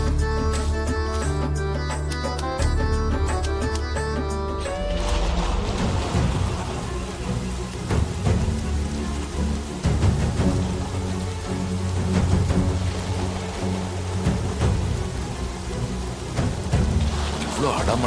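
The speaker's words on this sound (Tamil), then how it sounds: "இவ்வளோ அடமழையா இருக்கு" A heavy downpour pours steadily with thunder, a dense roar that takes over after several seconds of tonal music and continues loud to the end.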